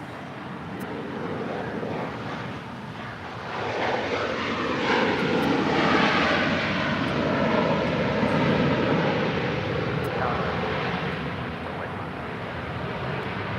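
An airliner landing at LAX roars steadily and loudly, a broad jet engine rush that swells midway and stays sustained, heard from nearby outdoors with a little wind and no talk.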